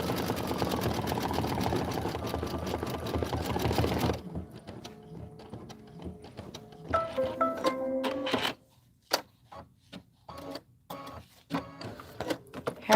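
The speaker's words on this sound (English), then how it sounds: "And then you're going to do the decorative stitching." An embroidery machine sews decorative stitching over an autumn appliqué piece. It runs in a dense steady whir at first, then breaks into sharper rhythmic mechanical clicks and thumps.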